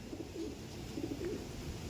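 A female Andhra pigeon coos softly, in a few low, rolling calls close by against a steady background hum.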